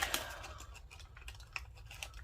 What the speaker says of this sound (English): Longer scissors might be a help.